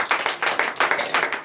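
Rhythmic group clapping in acclamation to God at a morning prayer service in Benin, with steady beats landing about every fifth of a second, loud and close, with no voices over it.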